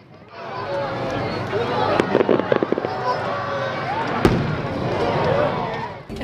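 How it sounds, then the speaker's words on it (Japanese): Fireworks at the Shiogama port festival eve display in Miyagi, Japan, go off in a rapid cluster of sharp pops and bangs, then a single louder boom, over a steady murmur of a large outdoor crowd. "大会ではおよそ8000発の花火が打ち上げられました"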